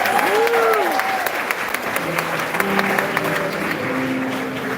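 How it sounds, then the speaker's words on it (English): An audience gives a round of applause, a steady wash of clapping throughout with voices and tonal sounds mixed faintly underneath. "Give them a round of applause."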